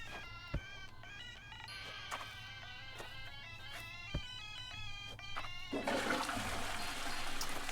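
A toilet flushes in the video game Animal Crossing: New Horizons, a rushing gush of water starting late and running to the end, with steady chiming game music playing throughout.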